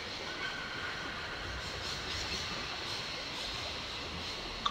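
Steady rumbling hiss of a train in the Syberia video game, a continuous rolling railway drone with no talking and a brief click at the very end.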